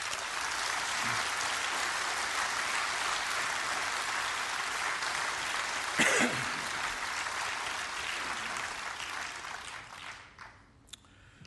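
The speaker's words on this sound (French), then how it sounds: "Elle mérite tous vos applaudissements." At the close of a congress, the hall breaks into long, steady applause for the organisers, broad and even, tapering off in the last seconds.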